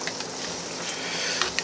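Cinnamon donuts made from canned biscuits frying in oil in a pan, a steady close hiss and sizzle with a few faint pops and crackles, no talking.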